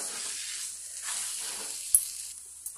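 A carrot sweet mixture for gajar laddu cooking in a pan gives a faint, steady sizzling hiss, with one or two quick clicks from stirring, quiet and close with no talk.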